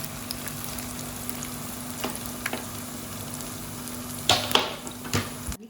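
Pieces of belida fish frying in oil, a steady close crackling sizzle with occasional spatters and a few stirring clatters near the end, no talk.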